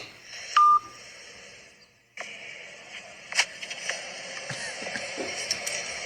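A telephone gives a short, loud dial tone, then silence and a click as the line drops, followed by faint clicks and handling noises against background hiss.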